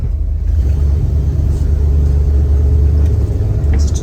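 A Ford E-350 Econoline van, its engine running lean with a check-engine fault, hums in a deep steady drone under light throttle with no clear rise in pitch, loud and close throughout.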